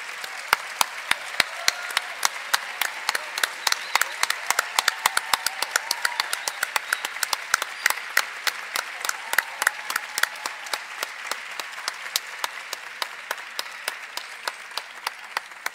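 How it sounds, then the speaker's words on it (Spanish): Graduation ceremony audience applauding postgraduate graduates at Ibero Puebla, sustained crowd clapping with sharp individual claps standing out close by, steady throughout and slowly thinning toward the end. "Demos un fuerte aplauso a estos egresados"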